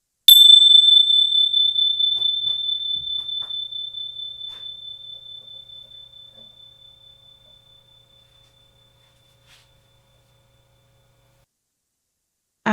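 Tingsha-style tincture bells are struck together once, leaving a single clear high ring that pulses as it slowly fades over about eight seconds, then silence with a faint click at the end.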